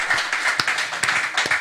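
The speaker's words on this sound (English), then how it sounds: "So I think they deserve a better applause." Audience applause at a 2023 launch event, a thin, brief patter of scattered claps from a modest crowd, somewhat distant and irregular.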